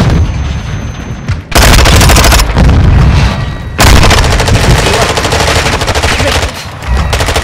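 Loud close bursts of automatic gunfire in Modern Warfare 2 ranked play, several rapid strings of shots separated by brief pauses, harsh and dense with booming impacts.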